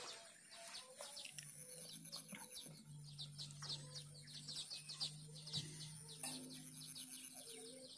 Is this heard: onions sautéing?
no